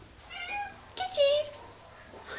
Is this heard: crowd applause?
no